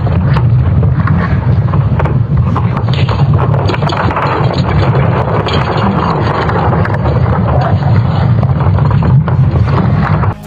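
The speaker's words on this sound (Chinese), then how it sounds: "以下你将要听到的声响是由欧洲航天局的 SWARM 任务卫星捕捉到的。 这些声音反映了地球磁场与太阳风粒子之间相互作用的结果。" Earth's magnetic field, sonified from ESA Swarm satellite data on its interaction with solar wind particles, forms a loud, continuous, wind-like roar with deep rumbling and scattered crackles throughout.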